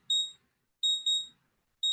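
Alarm beeps on a futures trading platform: short high electronic tones in quick pairs, repeating in a regular pattern, clear and isolated against a quiet background.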